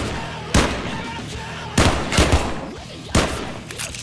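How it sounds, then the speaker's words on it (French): Gunfire during an indoor stairwell chase: three sharp, loud shots spaced about a second and a half apart, each a sudden broadband crack followed by a brief echoing tail. "j'entends des coups de feu"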